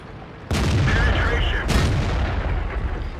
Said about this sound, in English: I actually bounced a shot there.